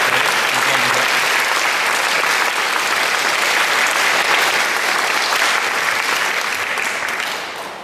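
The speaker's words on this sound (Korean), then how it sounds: "우리 하나님께 영광의 박수 한번 올려드리면서 목사님 감사합니다." A Korean church congregation at Sunday service gives loud, sustained applause, a dense, even wash of clapping that holds steady and then eases off near the end.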